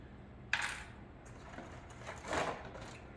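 Dry lasagna noodles snapped by hand while layering a homemade lasagna: a sharp crack near the start, then a second, louder brittle snap a couple of seconds later, both close and with no talking.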